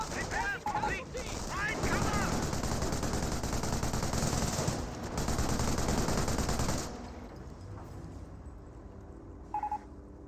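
Sustained machine-gun fire from an MG42 in a Company of Heroes battle, with rapid dense bursts and background combat for about seven seconds, mixed with a commentator's voice, before dropping to quieter ambience and a brief blip near the end.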